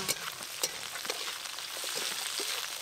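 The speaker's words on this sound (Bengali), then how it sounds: "পেঁয়াজ একটু ভাজা ভাজা করে নিয়েছি" Onions fry in a pan with a soft, steady sizzle and a few light spatula taps, fairly quiet and close, with no voices.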